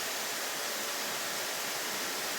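Dream Spa LED temperature-sensing shower head spraying water in a steady, full hiss that stays constant with no breaks and no voices.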